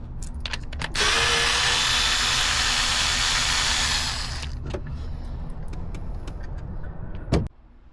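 A power drill whirs loud and steady for about three seconds, backing a spark plug out of a Sea-Doo personal watercraft engine, then trails off into clinks and handling noises, ending with a sharp knock.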